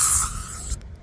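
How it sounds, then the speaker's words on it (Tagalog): Bug spray hisses from an aerosol can outdoors at a provincial youth soccer tournament: one close, sharp spray burst that cuts off abruptly after less than a second. "May I have some bug spray, please?"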